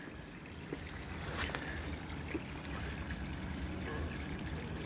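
Water poured steadily over paver steps during a building water test, a continuous soft splashing trickle with a few brief louder splashes, heard alone at close range.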